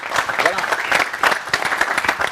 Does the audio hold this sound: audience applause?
yes